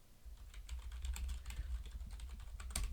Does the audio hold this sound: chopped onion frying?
no